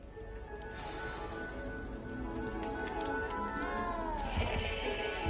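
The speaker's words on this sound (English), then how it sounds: "You don't need to be frightened, little cat." Cat meowing in the Hogwarts Legacy video game, a few plaintive meows over steady background ambience and music, moderately faint, with no talking.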